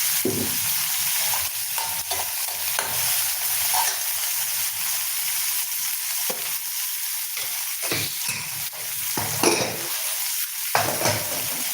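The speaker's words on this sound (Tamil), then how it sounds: "கத்திரிக்காய் பொரியலுக்கு நான் கொஞ்சம் எண்ணெய் ஊற்றிக்கலாம்" Eggplant stir-fry for poriyal sizzles steadily in hot oil, with a broad continuous crackle and occasional scrapes and stirs of a utensil against the pan, close and fairly loud with no voices.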